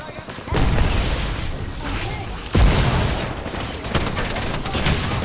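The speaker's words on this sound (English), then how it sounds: "Throwing nades." Grenade explosions in a squad-based shooter game: a loud, deep blast lands midway amid ongoing crackling gunfire and mechanical clatter, with further booms trailing off.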